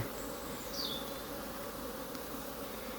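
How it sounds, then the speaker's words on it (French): Honeybee foragers buzz around the hives at a spring apiary, a dense continuous hum of many bees with occasional individual bees passing close by. "C'est vraiment des butineuses qui reviennent et qui partent"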